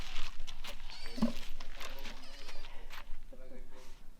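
A cat meows several times at close range, amid rustling movement and people's voices speaking over and between the calls.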